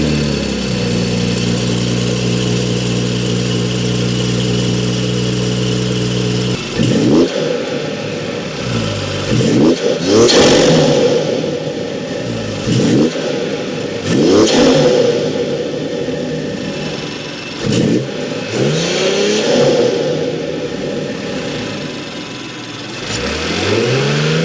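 A BMW 440i fitted with an MST intake is heard from inside the engine bay, first humming at a steady idle, then revved hard several times in loud surging bursts that fall back between blips.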